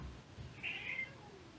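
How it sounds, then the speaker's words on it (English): A single cat's meow, brief and moderately close, rising at mid-clip over a quiet, faintly noisy background with no talking. "when I bring up this picture, I hear meow"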